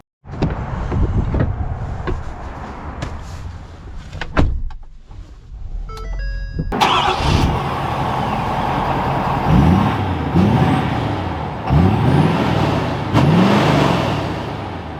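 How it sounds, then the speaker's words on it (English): A new Ford F-250 Harley Davidson Edition diesel pickup truck: some clicks and thumps inside, then the engine fires up midway and keeps running loudly, with several rising revs as it pulls away and drives. "let's take this bad boy F-250 out and see how it drives"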